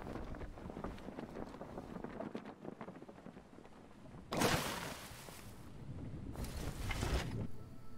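A raft sailing at sea in the survival game Stranded Deep: a low wind rush and water lapping around the craft, broken by two loud gusty swells partway through, with no speech.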